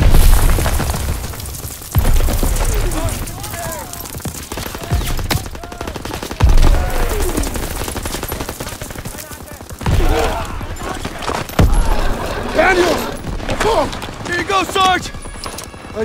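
Gunfire in a Call of Duty WW2 battle in Aachen: heavy, loud bursts of automatic fire and booming shots come in waves, with shouting voices breaking through between the volleys.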